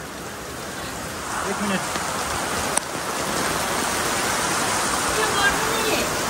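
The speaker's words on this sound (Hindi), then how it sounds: "अभी ना हवा और बारिश दोनों एक साथ में आ रहा है" Heavy rain driven by wind pours down outdoors in a dense, steady hiss that stays loud throughout, while a voice briefly speaks over it.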